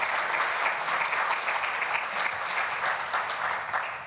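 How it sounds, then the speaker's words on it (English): An audience at a breakfast briefing conference gives sustained applause, a steady wash of many hands clapping that carries on for several seconds and tapers slightly at the end. "If you'd like to give them a round of applause,"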